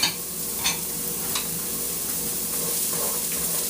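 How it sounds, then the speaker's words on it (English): Steady close sizzling of carrots frying in a hot pan, a continuous crackling hiss with occasional stirring scrapes. "You can hear that sizzle coming up, letting you know that that pan is hot enough for these."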